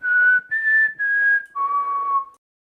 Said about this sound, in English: give us a whistle.